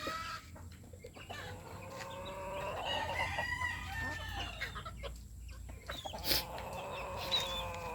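Several roosters crow one after another, some near and some farther off, with hens clucking in the background.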